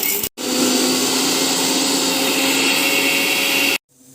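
A kitchen mixie grinding hard roasted lentils for coconut chutney, a loud steady whirring motor that runs alone for about three seconds between brief pauses.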